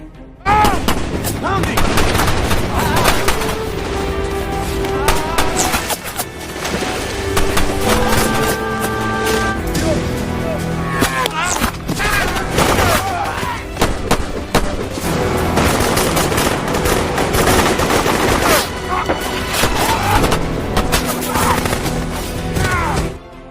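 Rapid machine-gun fire in a special forces rescue film rattles in long, loud bursts, mixed with explosions, dramatic music and occasional shouting voices.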